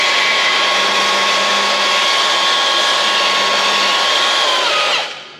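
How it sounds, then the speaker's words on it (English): A Milwaukee cordless bandsaw cuts through metal for a gate build, a loud, steady whine held for about five seconds that stops abruptly as the cut finishes. "one of my absolute favorite tools, the Milwaukee cordless bandsaw, makes cutting stuff like this super easy"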